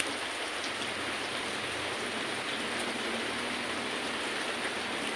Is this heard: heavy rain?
yes